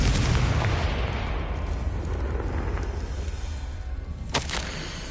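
Deep roaring blast from the Confringo fire spell in Hogwarts Legacy on PS5, a loud rumbling explosion that slowly fades, with a sharp crack near the end.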